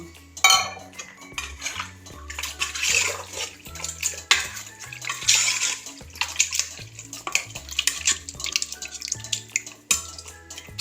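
Water is poured into a steel pressure cooker while making beef dum biryani, with clinking pots, utensil clatter and splashing liquid in a busy, close kitchen setting.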